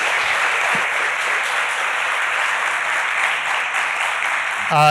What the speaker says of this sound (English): Would you give them all a great round of applause?